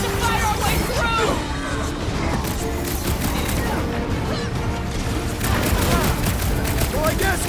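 Dense, continuous gunfire and crashing impacts fill a rooftop battle in the video game Marvel's Guardians of the Galaxy on PS5, with rapid shots layered over explosions and a busy combat mix throughout.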